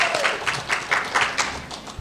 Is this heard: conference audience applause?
yes